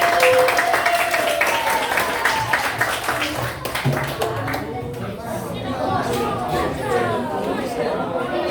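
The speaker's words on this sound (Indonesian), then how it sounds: "Tepuk tangan untuk kelompok 4." Students in a classroom clap for a group heading up to present, a dense burst of applause mixed with chatter that tapers into scattered claps and voices.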